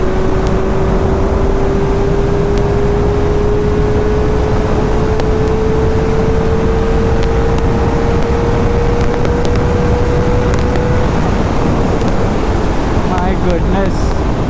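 A Kawasaki ZX-4R motorcycle pulls hard at speed, its engine whine rising steadily beneath loud, constant wind rush, with a brief shift near the end.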